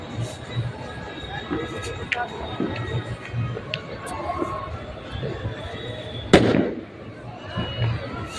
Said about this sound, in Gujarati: કેવા ફટાકડા ફૂટ્યા છે.